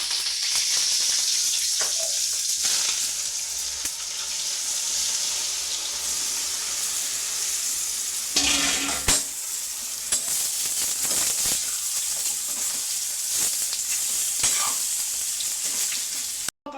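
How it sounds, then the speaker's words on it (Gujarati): Mustard seeds and cumin sizzle in hot oil as a tempering for jowar dhokla, a loud, close, continuous crackling hiss with a brief burst of extra spatter partway through. "રાઈ ફૂટી જશે તો આપણે જીરો નાખી દઈએ જીરું નાખી દઈએ"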